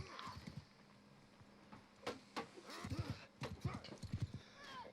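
Horse hooves clip-clopping with a whinny in the medieval combat game Bannerlord, during a dueling championship; several hoof beats cluster in the second half, moderately loud over low background murmur.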